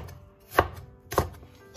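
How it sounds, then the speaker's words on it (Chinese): A knife chops green and red bell peppers into chunks on a cutting board, with two distinct, sharp chops about half a second apart in an otherwise quiet kitchen. "再准备一块青椒，我们给它切成块，红椒一个，给切成块"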